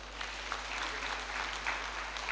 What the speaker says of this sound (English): She deserves a better clap than that